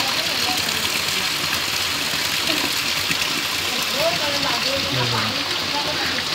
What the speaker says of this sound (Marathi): बघा पाऊस बघा किती पडतोय गावाला